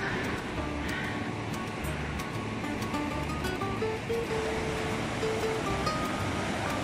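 A river along a roadside near Kapuzbaşı waterfalls below Erciyes mountain flows steadily, a constant broadband rush of water, with faint wind and scattered light sounds over it.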